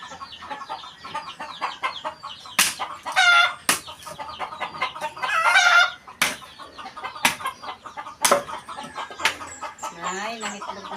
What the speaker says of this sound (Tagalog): May nangitlog pong manok.